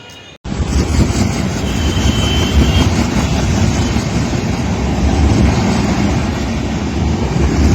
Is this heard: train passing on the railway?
yes